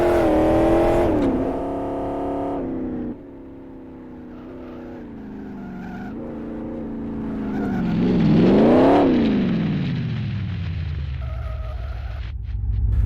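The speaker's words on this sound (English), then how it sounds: "So here's the Tommy 28. I think it's a 1928 Grand Prix car." A 1928 Grand Prix car, the Tommy 28, in the racing game Live for Speed, its engine revving loud and close with rising and falling pitch through gear changes, then settling to a rough idle.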